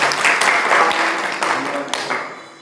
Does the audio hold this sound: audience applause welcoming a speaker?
yes